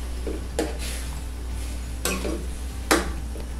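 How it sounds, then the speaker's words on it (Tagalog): Squid being stirred in a pan after ketchup has been added: a utensil scrapes and clinks against the pan three times over a steady low hiss, with no talking. "Haluin pagkalagay ng ketchup."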